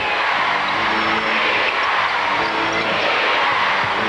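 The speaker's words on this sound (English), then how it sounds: "Crowd starts to come just a little bit louder." Crowd noise fills an arena at a WNBA championship game, Houston Comets against New York Liberty, a dense, loud, steady roar with basketball bounces mixed in and a voice talking faintly underneath.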